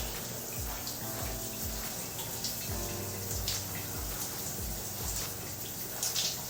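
Water running from a tap to wet type 4 hair, a steady, fairly loud splashing rush with small drip-like spatters, close and continuous throughout.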